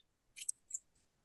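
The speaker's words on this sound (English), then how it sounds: "I'm using my good scissors to cut through that drawer lining" Good scissors snip through rubbery drawer lining, making two quick, crisp cuts close to the microphone in an otherwise quiet room.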